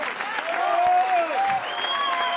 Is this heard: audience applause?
yes